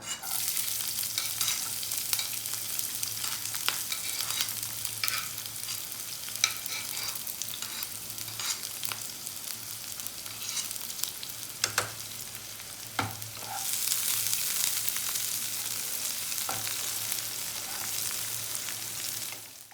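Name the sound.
chopped onion frying in a pan for dal tadka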